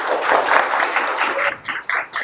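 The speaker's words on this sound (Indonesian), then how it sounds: "Tepuk tangannya." An audience at an Islamic boarding school greets an arriving guest with a short burst of clapping in uneven waves, thinning into a few scattered claps at the end.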